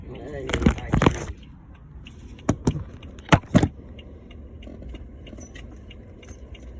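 Keys jangle in short metallic bursts beside a car during a Texas roadside traffic stop, with a couple of sharper clinks midway and faint voices and road noise underneath.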